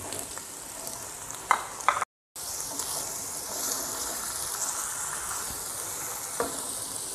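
Onions fry in a kadhai with a steady, moderate sizzle and hiss, broken by a few sharp clinks of stirring and one brief gap of silence near the start.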